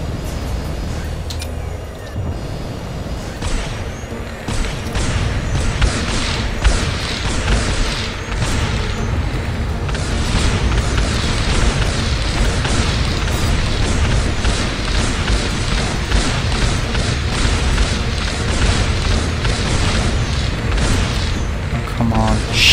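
Ships being shot down in the space game Independence War 2 bring a dense, continuous stretch of booms, bursts and rumbling weapon fire, loud and layered with no clear pauses.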